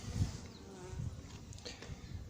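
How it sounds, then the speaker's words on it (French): A honeybee swarm shut inside a cardboard box gives off a steady, close insect buzz that holds for the whole stretch, with small swells in loudness and no talking. "L'essaim de Damien est bien enfermé dans ce carton"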